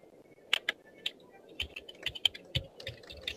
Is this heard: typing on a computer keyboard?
yes